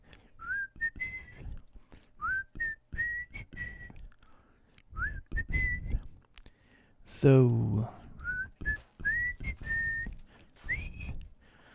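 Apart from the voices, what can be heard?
person whistling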